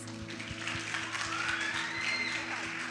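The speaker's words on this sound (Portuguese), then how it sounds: "Aplauda as meninas." Church congregation applauds, a soft, steady patter of clapping heard at a distance under a sustained musical drone and hum.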